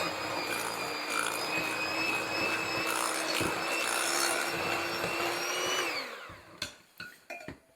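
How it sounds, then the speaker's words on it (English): An electric mixer beats a softened 8-ounce block of cream cheese with a cup of white sugar, its motor whining steadily for about six seconds before winding down, followed by a few sharp knocks of the beaters. "So I'm using 1 8-ounce block of cream cheese that's been softened and a cup of white sugar. And we're going to mix that together."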